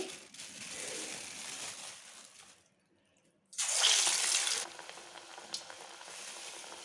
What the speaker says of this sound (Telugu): ఇప్పుడు వీటిని స్నాక్స్ లాగా చేసుకొని బాండీలో వేసుకుందాం